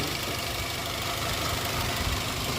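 A 2014 Daihatsu Terios TX automatic runs steadily at idle, its mid-pitched engine hum and mechanical rumble continuous and close, with no faltering and no voices over it.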